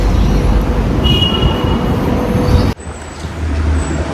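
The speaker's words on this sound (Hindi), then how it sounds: "चलो जी, अपना आ गया मेट्रो।" A metro train pulls into a station with a loud, steady rolling rumble and a brief high squeal, then the noise drops abruptly to a quieter hum with faint high tones.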